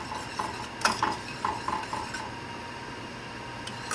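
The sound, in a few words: stirring caramel sauce in a pan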